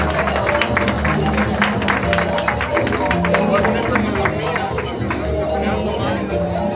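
Audience applause for the third row at a Frida Kahlo costume event in the Mexican consulate in San Jose, California: steady dense clapping from a crowd throughout, with a hubbub of voices mixed in.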